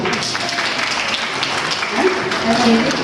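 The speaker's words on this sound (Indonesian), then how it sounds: "Tepuk tangan buat Bapak dulu" Applause for a speaker at a library outreach event, a brief burst of audience clapping in a room, with voices mixed in.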